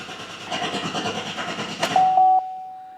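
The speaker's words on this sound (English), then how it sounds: "Pedal to the floor and cranking." A mild hybrid car's engine cranks with a rumbling, pulsing churn, then catches near the end, where a steady electronic beep sounds briefly before fading.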